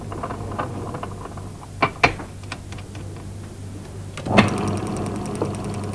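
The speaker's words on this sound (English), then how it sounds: "We're doing this in a tensometer." A tensometer pulls apart two pieces of fabric glued together with adhesive: a steady mechanical hum broken by a few sharp clicks and ratchet-like snaps as the bond peels.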